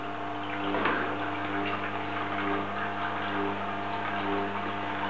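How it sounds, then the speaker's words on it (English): Milk pours through a Hurom juicer with cacao powder, giving a steady liquid flow with the low, constant hum of the machine running underneath, fairly close and even throughout. "we've just got to put this milk through to help that chocolate powder go through"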